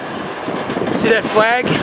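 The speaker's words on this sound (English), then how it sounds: "we got a train pulling out" A train moving out of a rail yard, rolling along as a low steady rumble with wheel noise throughout, while someone talks over it nearby.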